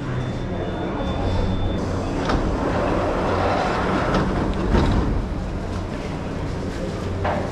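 An old, crowded Mexico City metro train rumbles steadily inside the car, a constant loud roar with faint rattles and muffled crowd murmur throughout.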